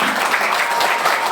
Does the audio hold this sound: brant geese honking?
no